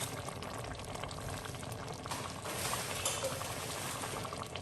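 Aubergine curry with chopped tinned tomato cooks in a pot, giving a steady, fairly loud bubbling simmer and sizzle with faint stirring throughout and no talk.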